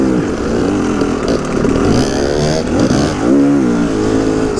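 A motorcycle engine revving hard nearby, loud and continuous, with the pitch climbing and dropping in repeated surges as the throttle is twisted and released.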